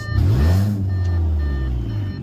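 An Audi A4 with a 2.0T engine revving as the gas is pressed in park, a loud close rising engine note that swells quickly then holds a steady elevated drone.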